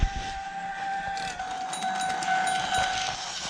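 A Tomy Plarail toy train passes over a crossing rail, triggering an electronic crossing gate sound: steady high tones and a ringing chime over faint mechanical rattling.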